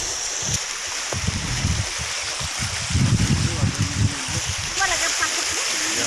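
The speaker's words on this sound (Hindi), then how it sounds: "और ये देखिए नीचे से पानी जा रहा है।" Water flowing beneath a bridge near a waterfall: a continuous broad rushing wash in the background, with someone talking over it much of the time.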